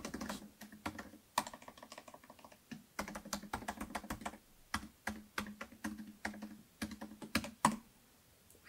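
A member ID and password being typed on a computer keyboard, close and crisp key taps in quick bursts with short pauses between groups of strokes.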